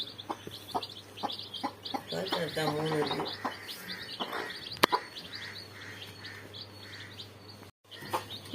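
A mother hen clucks softly and repeatedly while her chicks peep in quick, high chirps close by, with a brief sharp knock partway through and a person talking over parts of it.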